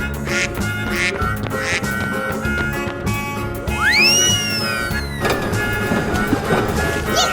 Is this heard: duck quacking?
yes